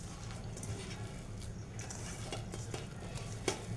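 By hand, palm fritter batter made with grated coconut and rice flour is mixed in a bowl, giving soft wet squelching and stirring with occasional light taps and clinks of a utensil, fairly quiet.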